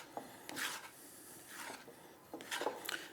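A dough scraper rasps around the sides of a bowl of sourdough bread dough, making a few short, soft scraping strokes close up with pauses between them.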